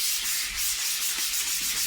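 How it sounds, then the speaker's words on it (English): Steady, continuous abrasive sanding of a Fender-style electric guitar body with a rhythmic rubbing back-and-forth, close and fairly loud, no voices. "Lots of sanding."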